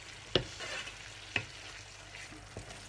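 Homemade pizza sauce with fresh and dried oregano and basil being stirred, giving three soft spoon knocks against the pot, one every second or so, over a quiet background.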